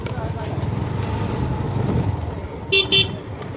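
Road traffic rumbles steadily near the Palasdari Shri Swami Samarth math, with two short car horn toots near the end and faint voices in the background.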